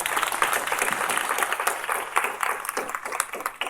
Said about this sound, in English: So can we just give her a quick round of applause?